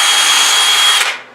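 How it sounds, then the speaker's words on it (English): A power drill bores a pocket hole through 5/8-inch wood held in a Kreg jig, one loud steady whir for about a second before it winds down and stops. "drill your pocket hole, move your clamp, same distance from the other side"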